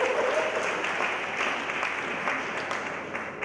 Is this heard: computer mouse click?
no